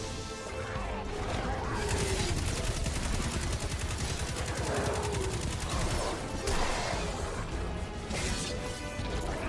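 Rapid gunfire in the video game Destiny 2 crackles in dense, continuous bursts with crashing impacts and mechanical clatter, loud and close, with someone talking underneath.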